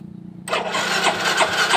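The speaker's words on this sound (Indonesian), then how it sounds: "ini bisa diindikasikan kemungkinan dari dinamo startnya emang yang berat" An engine with a weak, heavy starter motor cranks with a slow, labored pulsing before a louder, rough running roar abruptly takes over, close and loud.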